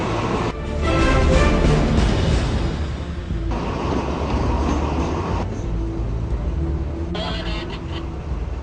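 A train slowly backing out of its depot, a steady low rumble with a rising, falling mechanical roar and faint rail clatter, close and continuous throughout.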